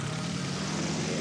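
Propeller airplane performing aerobatic stunts over Oran Park raceway for a motorsport crowd on an overcast, rainy day, its engine a steady, distant drone throughout.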